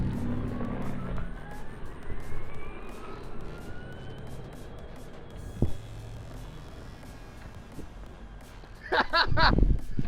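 A 300hp electric cross kart running at 370V gives off a rising and falling electric motor whine as it drives and changes speed, fairly close, with a loud burst near the end and people talking at times.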